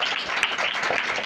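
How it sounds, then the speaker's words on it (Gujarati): A church congregation claps together in a sustained round of applause, a dense patter of many hands filling the room at moderate loudness. "આપણે જોરદાર તાળી પાડીએ."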